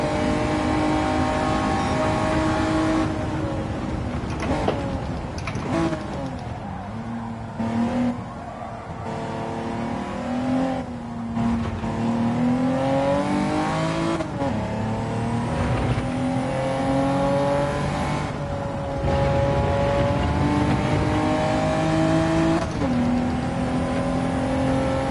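A race car engine in the Gran Turismo 7 video game on the final lap roars loud and constant, rising and falling in pitch through repeated gear shifts for the whole stretch.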